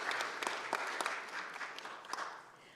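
Audience at a Frisco Chamber candidate forum at Grace Church giving a round of applause for the hosts, faint scattered clapping with a few sharper claps, heard from a distance.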